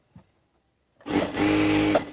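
After a faint tap and a near-silent pause, a sewing machine starts up close by and runs steadily, stitching palazzo fabric with a loud, even mechanical whir for about a second.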